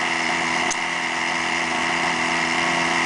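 A Veco 19 glow engine on an RC model airplane runs steadily at a constant high-pitched buzzing drone, loud and close throughout with no pauses.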